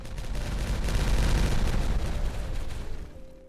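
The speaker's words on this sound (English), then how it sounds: "these explosions can be loud" Rumbling explosions in the city-building game Timberborn, a dense continuous roar of blasts swelling loud and sustained for several seconds before fading at the end.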